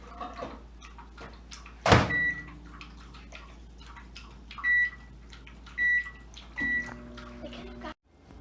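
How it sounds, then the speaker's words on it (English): A microwave oven hums as it thaws frozen bananas for banana bread, with a sharp clunk early on, several short beeps, and a sudden stop near the end. "if they're frozen, put them in the microwave for about half a minute"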